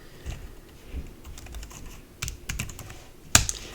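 Computer keyboard typing terminal commands for file operations, a quick run of soft close keystrokes ending in one sharper, louder key press.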